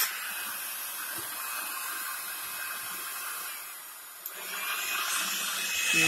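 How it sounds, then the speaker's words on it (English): A blow dryer heating a pipe whirs steadily with a constant high-pitched hiss, briefly dipping before swelling slightly louder toward the end; no one speaks. "Got a blow dryer."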